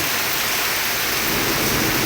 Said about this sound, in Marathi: हे बघा किती पाऊस मुसळधार पडतोय